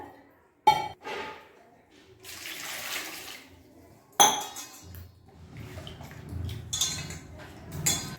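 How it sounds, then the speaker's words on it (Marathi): Water splashes and swishes in a bowl as tomatoes are rinsed, punctuated by sharp clinks of a container, with pauses between bursts. "आता आपण हे टोमॅटो स्वच्छ पाण्याने धुवून घेऊया"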